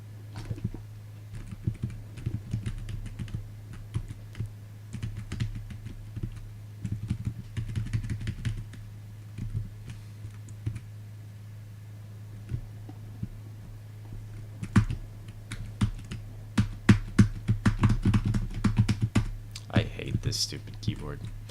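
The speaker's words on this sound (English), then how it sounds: "Stupid keyboard." Typing on a computer keyboard, bursts of close rapid key clicks with pauses, getting busier and louder toward the end, under a background hum and occasional speech.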